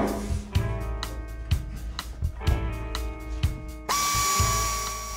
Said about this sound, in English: We're also using a pneumatic drill, since an electric one can generate sparks.